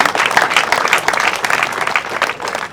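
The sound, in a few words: audience applause at church event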